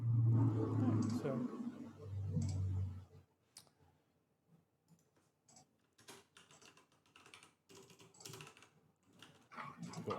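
Typing on a computer keyboard comes through as scattered clicks and short bursts of keystrokes, quiet and fairly close, following a loud opening stretch of speech.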